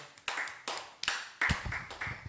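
A congregation at a church service clapping in acclamation, irregular bursts of hand claps rising and falling over a couple of seconds, fairly close, with a few lighter taps between.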